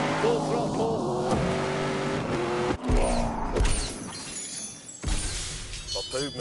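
Car at full throttle in The Grand Tour video game, engine roaring and revving with crashing, shattering impacts and tyre noise, loud and busy, with excited talk over it.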